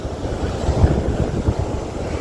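Strong sea waves surge at a beach in low, rolling rumbles with a couple of heavier crashes, mixed with wind buffeting the microphone.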